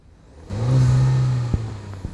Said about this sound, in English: There's a little turbo whistle on it, so it sounds like you got a turbo on it.